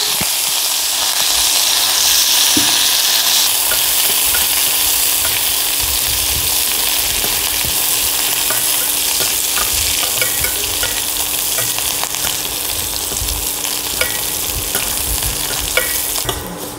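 Curry leaves sizzle loudly in hot oil, a continuous bright crackling hiss with scattered pops, close up and uninterrupted by talk.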